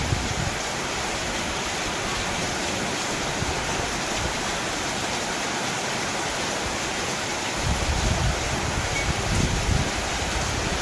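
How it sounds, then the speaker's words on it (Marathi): Heavy monsoon rain pours steadily over a village while runoff water rushes and gushes strongly nearby, a dense continuous roar with no voices. "आला पाऊस बघा पाणी कसं वाहत आहे जोरदार तिथं पाणी वाहत आहे हो"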